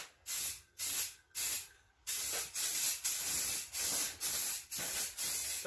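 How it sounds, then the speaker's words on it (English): Rust-Oleum peel coat sprays from an aerosol can onto ATV plastics, a loud steady hiss in repeated bursts, three short passes then a string of longer sprays with brief pauses between. "It already seems like it's spraying better than the Plasti-Dip was as far as atomization."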